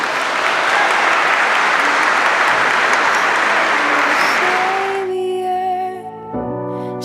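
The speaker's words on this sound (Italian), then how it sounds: "Un applauso ai nostri sposi e al convitati." Wedding guests at a ceremony in Marina di Carrara applauding the couple, loud dense clapping for about five seconds that gives way to sustained music tones as the applause fades.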